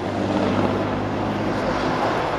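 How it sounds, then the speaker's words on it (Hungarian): Mi-24 attack helicopter in a flying demonstration at an air show, giving a loud, continuous rotor and engine roar that stays steady and fills the whole clip, with no talk over it. "ezzel a Mi-24-es harci helikopter egyéni bemutatója véget ért"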